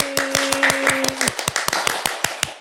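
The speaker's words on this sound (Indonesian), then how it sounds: "Tepuk tangan dulu semua ya." A run of sharp, irregular audience claps and taps at a talk show, some close and loud, with a steady tone humming underneath for the first half.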